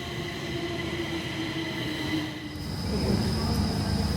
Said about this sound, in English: You could just get on the metro and travel up and down and see all the stations